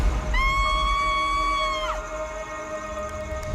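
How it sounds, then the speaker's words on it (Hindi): A woman's high, sustained scream rings out for about a second and a half and then breaks off sharply. It is a horror podcast sound effect, set over low background rumble. "अगले ही पल एक औरत के चीखने की आवाज आती है"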